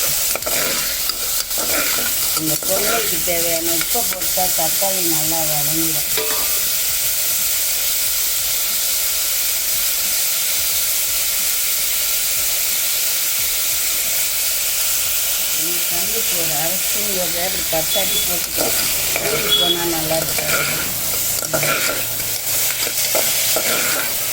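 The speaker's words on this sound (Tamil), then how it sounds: "இஞ்சி வெங்காயம் கேரட்டு தக்காளி எல்லாத்தையும் ஒன்றா போட்டுக்கிறேன் நல்லா வதக்கிடுவோம்" Onion, ginger, carrot and tomato sizzle and hiss loudly and steadily in a hot pan, with a voice talking over it at the beginning and again later.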